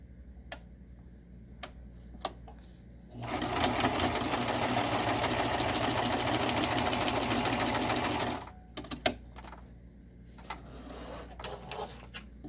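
A Singer Tradition sewing machine runs a straight stitch at about 4 mm stitch length, a steady fast mechanical whir lasting around five seconds, bracketed by a few sharp clicks before and after.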